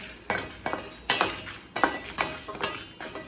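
Spices dry roast in a pan while a spoon stirs them, giving a series of quick scraping and clinking strokes at a fairly even rhythm, close and moderately quiet.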